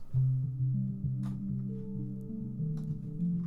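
A dark, muffled Thor synth tone plays a slow sequence of low sustained notes, soft and rounded with the highs filtered away, and no voices.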